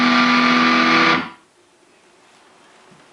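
Electric guitar run through an amp on its metal setting with the drive up, a loud dense distorted chord ringing for about a second before cutting off, followed by faint low hiss and a small click at the end.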